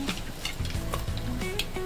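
Mustard seeds crackle and pop in a generous amount of hot oil, tempering for a Maharashtrian taro-leaf curry. The sizzle is continuous and dense and sits close to the listener, with scattered sharp pops.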